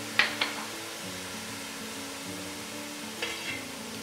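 Minced vegetables frying in a pan for vegan Filipino spaghetti, a soft steady sizzle with a low hum underneath and a few quick utensil clicks at the start and near the end.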